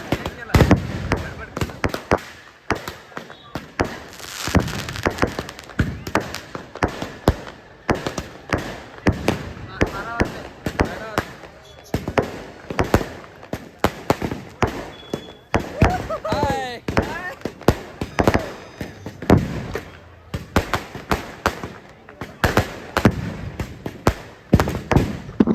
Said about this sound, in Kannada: ಪಟಾಕಿನ ಹಾರಿಸ್ತಾ ಇದ್ದಾರೆ.